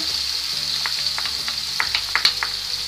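Grated onion sizzles steadily in oil in a pan over a medium flame, a constant close hiss broken by a few sharper crackles and stirring scrapes, no voices.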